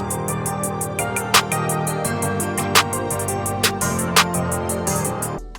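Metallic percussion hit in a trap beat, bouncing once per phrase over steady fast hi-hats and low melodic layers; a few bright accented strikes stand out loud in the mix, with no talking.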